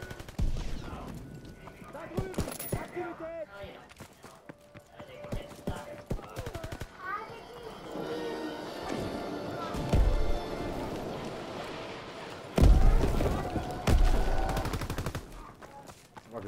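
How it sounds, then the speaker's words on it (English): Rapid gunfire rattles through a Call of Duty: WWII match, bursts of automatic fire and single shots near and far, with several loud close blasts, under ongoing player talk. "I just wanna shoot out that side window."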